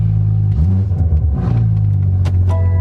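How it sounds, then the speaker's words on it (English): A BMW M4 G82 on a cold start with its exhaust disconnected, a loud, raw, rumbling idle that flares briefly around the middle before settling back into a steady, close drone. "This cold start on this Beamer that we're working on is crazy."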